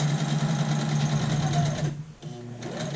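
Sewing machine stitching a dart into skirt fabric, a close steady mechanical hum and needle chatter that pauses briefly near the end and then resumes, with no talk over it.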